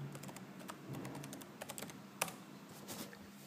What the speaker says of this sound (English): Let's put the password in.